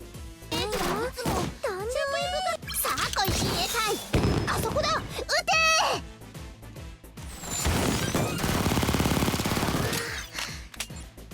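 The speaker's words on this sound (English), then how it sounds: "These students then lift their weapons and deal a significant amount of area of effect damage around Cherino." Burst of game gunfire as Cherino's students raise their weapons for an area-of-effect EX skill in Blue Archive: rapid cracking shots and a sustained crackling barrage, mixed with in-game voice cries and music.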